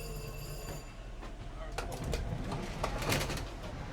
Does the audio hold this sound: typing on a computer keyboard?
no